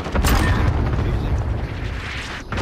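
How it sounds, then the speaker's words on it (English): Cluster strike explosions landing on a bomb site in a shooter game, a loud rumbling boom with crackling bursts rolling on and slowly fading. "I got a cluster strike on the bomb"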